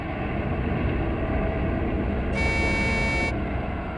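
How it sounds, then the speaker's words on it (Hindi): A truck horn sounds once in a forest, a single sustained blast of about a second over a steady engine rumble, fairly loud and near. "हॉर्न भी बजा रहा है।"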